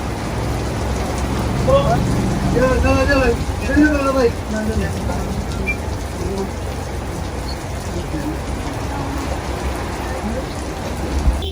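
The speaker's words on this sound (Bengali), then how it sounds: "বৃষ্টি শুরু হয়ে গেছে" Heavy rain hisses steadily on surfaces at a CNG filling station throughout, with a voice speaking briefly early on over the downpour.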